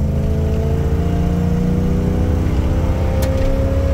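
A truck with a 460 EFI V8 and a low-profile throttle body upgrade pulls hard under acceleration, a loud, steady engine drone with rising tones and a brief sharp whine near the end.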